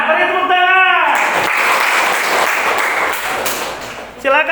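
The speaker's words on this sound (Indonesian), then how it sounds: "Beri tepuk tangan." Classroom applause for the first student group, a dense wash of clapping from many hands lasting several seconds, with voices heard briefly at the start and end.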